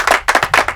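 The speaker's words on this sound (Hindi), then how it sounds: "तालियां बजाओ" A few hand claps among students in a classroom scene, three quick bursts of close, bright clapping in an uneven rhythm.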